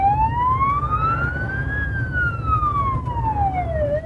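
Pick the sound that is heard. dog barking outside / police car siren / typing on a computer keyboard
police car siren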